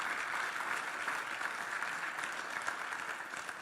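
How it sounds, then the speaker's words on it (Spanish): A church congregation claps in steady, sustained applause during a sermon, a dense even wash of many hands with no pause. "démosle fuerte ese aplauso al Señor"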